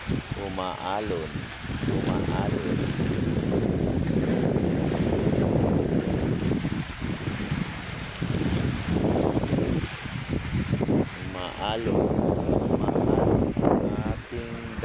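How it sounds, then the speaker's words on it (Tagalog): Rough sea waves roll along the shore of Manila Bay under strong, continuous wind noise, while someone talks over the surf for most of the time. "Maalon ating dagat."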